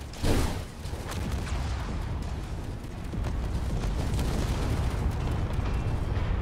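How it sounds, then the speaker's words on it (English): Rocket launches and explosions in the Space Engineers game during a player battle for control of an asteroid base, a sharp boom at the start giving way to a sustained rumbling roar of fire and blasts. "Rocket fire."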